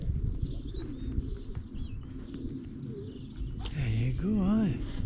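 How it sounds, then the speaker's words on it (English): Young pigeons calling and cooing amid outdoor background noise, with several soft coos rising near the end while people talk nearby. "Yeah, they're all young birds, aye."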